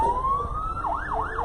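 A fire truck siren rises in a long climbing wail, then swings into a quick up-and-down yelp, loud and close over low traffic rumble.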